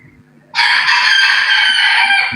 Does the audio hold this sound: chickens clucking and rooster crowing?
yes